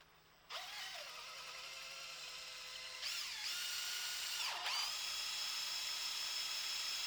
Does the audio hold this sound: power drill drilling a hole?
yes